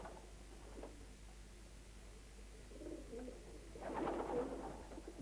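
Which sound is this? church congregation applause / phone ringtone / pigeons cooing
pigeons cooing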